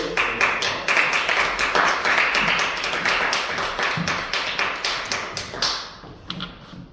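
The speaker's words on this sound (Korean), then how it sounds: "박수." Applause from a church congregation at a station staff worship service, dense clapping that fills the room for about six seconds before trailing off into a few scattered claps.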